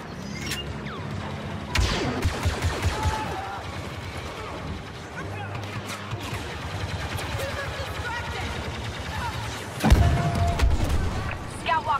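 Blaster gunfire in Star Wars Battlefront II rattles in bursts alongside heavy booms and mechanical battle noise. A loud blast lands near the end, and speech runs beneath the combat.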